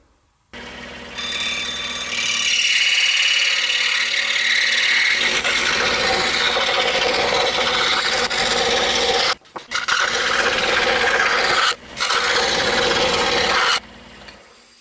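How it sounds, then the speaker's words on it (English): A scroll saw fitted with a number 7 reverse tooth blade cuts a wooden hull for a rubber band racing boat. The close, loud, steady rasping buzz runs for several seconds, breaks off twice briefly, then stops. "take this over to the scroll saw using a number 7 reverse tooth blade. We will cut it out."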